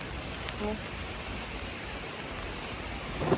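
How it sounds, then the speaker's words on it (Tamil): Steady rain pours onto a vegetable garden of leafy greens in Germany, a dense, even hiss of drops throughout with a few louder splashes, no voices. "மழை"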